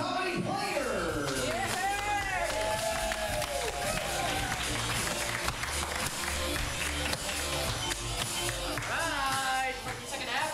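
Audience applause and cheering for comedy improv players at a live main stage comedy show, a dense, loud, sustained crowd roar with clapping throughout, a voice talking over it near the end.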